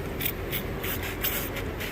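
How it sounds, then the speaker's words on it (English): Soapy liquid sprays in short, close hisses at a steady rhythm, roughly every quarter second, onto a car air-conditioning line being checked for a leak. "spray that with soap."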